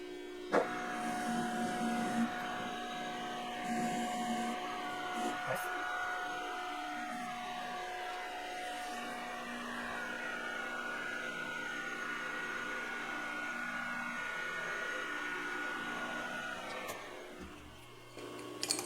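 A metal lathe turning down a metal part in a workshop, a steady mechanical whine with sustained tonal hum and grinding cutting noise that runs continuously, then tapers near the end.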